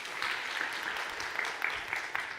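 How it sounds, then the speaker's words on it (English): Audience applause at an internationalisation congress, a steady wash of many hands clapping in a hall, moderately distant and even throughout with no talk over it. "So this is our big round of applause for them."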